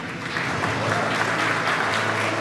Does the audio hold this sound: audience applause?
yes